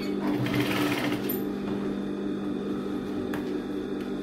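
A sewing machine stitches lining to quilted fabric with a steady, close mechanical whir that runs throughout, a faint electric hum underneath and no talking.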